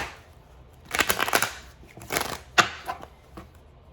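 Tarot cards being shuffled in a quiet room, a burst of riffling and flicking around the middle followed by a sharper slap and a few softer shuffles, close and alone with no voice.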